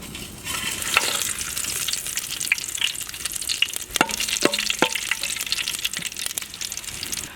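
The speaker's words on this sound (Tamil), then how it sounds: "எண்ணெய் வந்து சூடானதுக்கப்புறம் என்னென்ன சேர்த்துக்கணும்னா பாருங்கள், பிரியாணி இலை, குடமிளகா, சோம்பு, இது மூணையும் வந்து சேர்த்துக்கணும்." Bay leaf, capsicum and fennel seeds fry in hot oil for a kadaknath black chicken gravy, giving a steady close sizzle broken by scattered clicks and scrapes of stirring.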